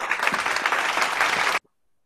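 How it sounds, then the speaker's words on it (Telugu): Children at a church children's club clap together in a steady burst of dense applause lasting about one and a half seconds, then it cuts off into silence. "అందరు క్లాప్స్ ఇవ్వాలి"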